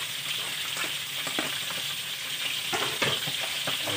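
Bicol Express simmers and fries steadily in a pan as chili is added, a continuous close sizzle broken by a few stirring scrapes and small crackling bursts.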